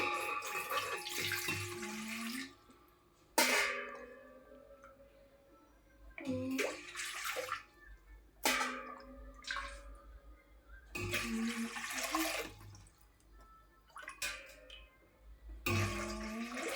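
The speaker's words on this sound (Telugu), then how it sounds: "8 గ్లాసెస్ వాటర్ దీంట్లో పోసుకోవాలి." Water is poured from a glass into a pot for upma rava, several close, splashing pours in a row, each a few seconds long and separated by short pauses.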